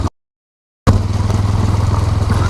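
A motorcycle moves slowly over a rough, stony road, its engine a close, loud, steady throb after a brief cut-out, with no talk.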